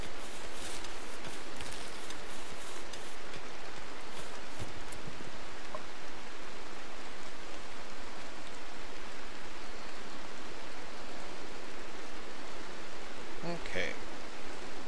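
Steady rain from the video game Rimworld, a continuous broadband hiss that stays even and fairly loud from start to finish, with a few faint clicks near the end.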